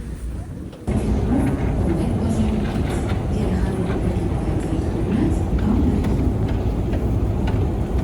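A metro train rumbles steadily after a brief quieter moment, with low continuous rolling noise and faint rattling, close by and fairly loud.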